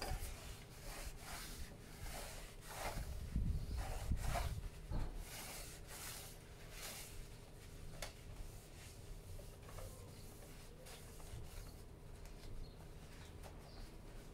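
Paper towel rubbing and wiping inside the condensate tray of an air conditioner indoor unit during cleaning, a soft scrubbing burst mid-clip among repeated faint swipes, quiet and close.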